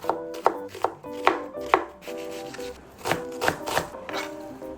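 A knife chops a large onion on a board in quick, rough strokes, a few sharp taps at a time with short pauses, close and clear with no voices.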